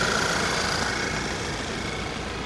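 A Volkswagen engine idles roughly, a steady close-up rumble with uneven mid and low tones and no talking.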